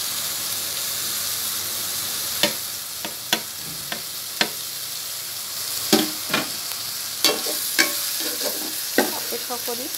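Chopped vegetables with minced chili frying in a pan, a steady background sizzle broken by scattered sharp scrapes and clacks of a stirring utensil, close and moderately loud, no voices.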